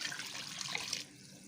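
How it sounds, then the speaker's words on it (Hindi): Water pours from a jug into a cooking pot of Lahori-style beef paya with salt, a soft splashing gush for about a second that then drops to a faint trickle, with no talk. "अब इसके अंदर मैं मज़ीद पानी ऐड करने लगी हूँ।"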